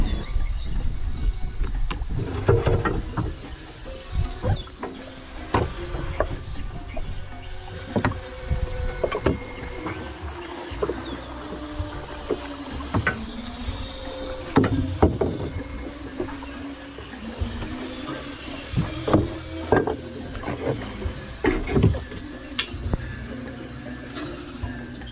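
Homemade wooden fishing boat under way on open water during a speed test, steady engine drone with water rushing and slapping against the hull, fairly loud and continuous throughout.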